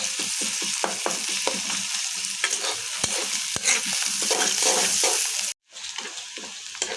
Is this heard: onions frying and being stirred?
yes